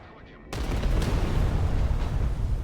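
Su-34 airstrike bombs bursting in the Broken Arrow war game, a sudden loud boom that opens into a sustained rumbling roar of blasts, heavy and close, filling the rest of the moment.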